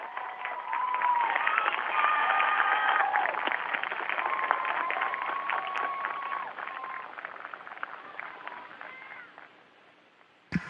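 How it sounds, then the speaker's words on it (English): Students applauding visiting astronauts, a steady round of clapping and light cheering over a narrow, distant-sounding connection, fading out over about ten seconds. "Boys and girls, can we give them a huge round of applause?"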